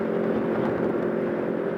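A motorcycle cruising on a freeway gives a steady, loud engine drone with rushing wind and road noise, unbroken and close.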